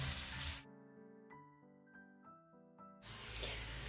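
Onion sizzling hard in a hot frying pan, a loud hissing fry at the start and end, with a quieter tonal stretch in between.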